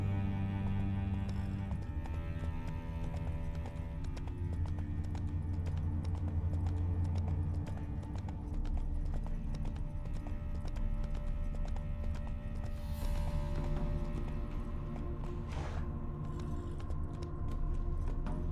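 Video game horse hooves from The Witcher 3: Wild Hunt, a fast, steady clip-clop of galloping close by, layered over a continuous tonal game soundtrack with no talking.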